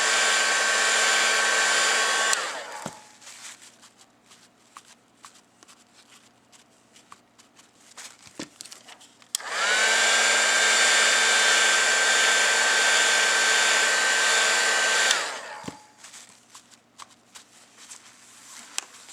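A blow dryer dries mold putty in two loud, steady roaring bursts separated by a quieter pause filled with light handling clicks and taps nearby.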